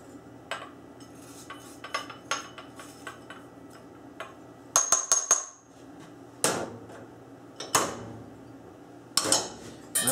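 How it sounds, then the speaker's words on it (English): A metal whisk beating egg yolks with sugar in a bowl, giving irregular clinks and scraping taps of metal on the bowl with a few sharper knocks, close and fairly quiet. "We stir it till it turns pale yellow."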